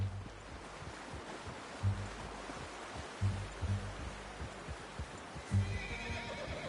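A horse in Red Dead Redemption 2 whinnies and snorts amid the slow clip-clop of hooves, with a soft steady ambient hiss underneath.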